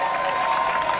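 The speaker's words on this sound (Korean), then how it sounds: "박수 감사합니다" Applause from an audience at a Korean political event where defecting People Power Party members announce they are joining the Democratic Party, a short steady wash of clapping with crowd noise throughout.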